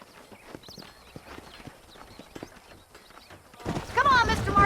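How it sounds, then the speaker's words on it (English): Horse hooves clip-clop in Red Dead Redemption in a steady, moderately close rhythm, joined near the end by louder, busier clattering and a brief whinny-like sound. "These are fine horses."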